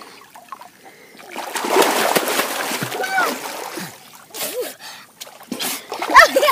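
Splashing and sloshing of water as people swim in the Ing River in the evening, irregular bursts close by with voices talking over it.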